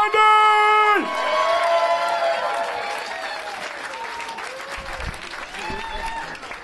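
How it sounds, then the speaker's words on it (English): Comedy club audience at the Atlanta Punchline applauding and cheering loudly, a dense wash of clapping with whoops that peaks at the start then settles into steady sustained applause, with a voice briefly heard over the crowd. "big round of applause for Andy Lipman."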